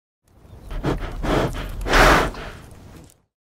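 A reindeer gives a short series of breathy snorts and grunts over about three seconds, building to a louder, rougher exhalation near the end, heard close and alone.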